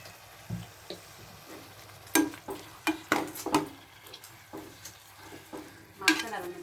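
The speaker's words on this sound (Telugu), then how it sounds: "వేసుకుని మటన్ ఇందులో వేసుకుని ఉల్లిపాయ ఎగిపోయాక తిప్పాలండి" Mutton pieces frying with onions in a pan, stirred with a utensil; a soft sizzle runs throughout, with a series of sharp clinks and scrapes against the pan clustered in the middle and again near the end.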